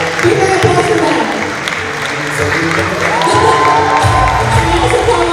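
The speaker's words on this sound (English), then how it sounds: "Big round of applause for that." Loud applause and cheering from an audience at a dance and theatre show, a dense roar of clapping mixed with voices and children's shouts, with a sustained tone and voices rising in the second half.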